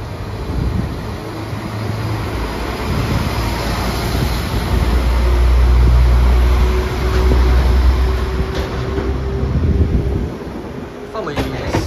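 A Northern train to Leeds idles and rumbles at a Sheffield station platform, with steady low engine drone and wind noise; a loud hum swells midway before easing off.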